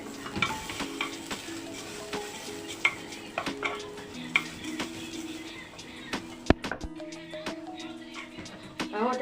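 Rice and white beans are sautéed in a pot: a spoon stirs and scrapes repeatedly in irregular clinks over a soft, continuous sizzle, fairly quiet and close.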